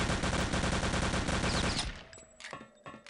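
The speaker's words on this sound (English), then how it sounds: "Long range shooting from H2O" Rapid bursts of gunfire fill the first two seconds during a competitive 3-on-3 Return to Castle Wolfenstein grand final match, loud and dense, then give way to sparser, quieter scattered shots.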